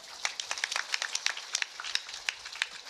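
Sparse, scattered handclaps from a small audience at an Islamic study gathering in Karanganyar, a light patter of separate claps rather than a full ovation, fairly quiet and with no talking over it.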